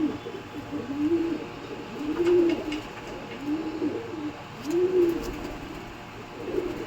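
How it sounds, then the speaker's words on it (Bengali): Pigeons coo in slow repeated rounds close by, roughly four soft throaty phrases over a faint background hiss, with a few light flutters and no talk. "এই পায়রা একটু ছটপটাচ্ছে ঠিকই"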